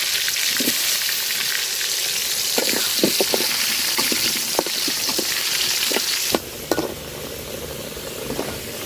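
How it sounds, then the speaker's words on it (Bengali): Potatoes coated in salt and turmeric fry in hot oil in a pot, a loud, steady close sizzle with occasional stirring clinks and scrapes, with no talking. "তো আলুটা ভাজা নিব।"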